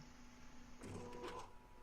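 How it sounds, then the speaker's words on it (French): A printer whirs and clatters in the horror game One Late Night, a short mechanical burst rising from a quiet hum, fairly faint and heard alone. "Vas-y, éteins-moi cette imprimante."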